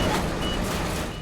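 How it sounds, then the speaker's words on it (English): A truck's reversing alarm sounds at a heavy crane rescue on a highway, lifting a tractor trailer from a river, loud and continuous under dense engine and site noise. "I'm hearing the alarms."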